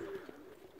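A pigeon coos softly in a brief, low call near the start, over faint ambient background.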